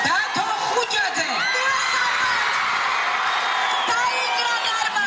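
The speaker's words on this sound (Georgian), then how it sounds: "აუცილებლად აპლოდისმენტები" A studio hall audience at a Georgian TV show roars with sustained cheering, whoops and shouts, a dense loud crowd wash lasting throughout with an announcer's voice faintly mixed in.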